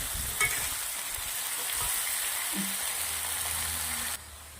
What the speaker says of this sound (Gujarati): બટાકાનો કલર ચેન્જ થાય ત્યાર સુધી આપણે આને શેકવાના છે તેલના અંદર.